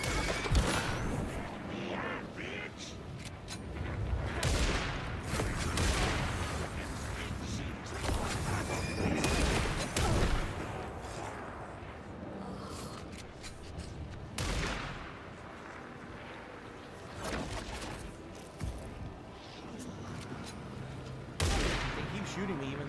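Enemies firing at the player in the video game Alan Wake II: repeated gunshot bursts and crashing impacts scattered through a dense, busy game mix, with a voice talking over parts of it.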